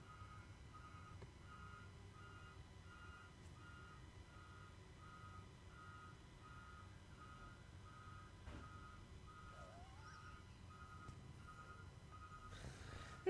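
A dumpster truck's reversing alarm repeats steady, evenly spaced beeps, faint and distant, heard through indoor background hum.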